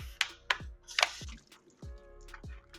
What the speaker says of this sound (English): Then I'm going to take my cherry tomatoes, rinse them off